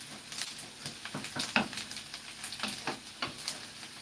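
Onions sizzling in a pan that is close to burning, a steady soft frying crackle with faint scattered pops, heard close with no talk over it.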